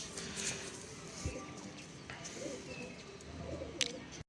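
A large racing pigeon coos faintly and intermittently amid a soft background hum, with a few light clicks and a short chirp.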